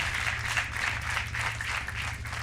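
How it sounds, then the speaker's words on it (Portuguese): A studio audience applauds a contestant named Francisco on a Portuguese TV quiz show, a dense and steady round of clapping from many hands with a low hum beneath it. "Um aplauso para o Francisco"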